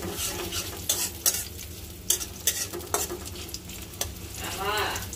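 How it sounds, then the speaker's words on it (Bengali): Onions fry in hot oil in a kadai wok for a fish and radish curry, a steady sizzle broken by repeated sharp scrapes and clatters of a spatula stirring. "পেঁয়াজটা ভাজা হচ্ছে,"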